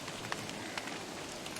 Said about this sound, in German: Ich finde das super, dass es so viel regnet.